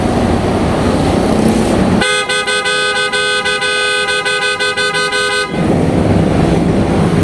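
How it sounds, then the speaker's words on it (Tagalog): An aftermarket PIAA horn on a 2012 Kia Rio blares in one loud, sustained, multi-tone honk lasting about three and a half seconds, with steady broadband noise before and after. "may na-install tayo ngayon na PIAA horn auto style sa Kia Rio model 2012"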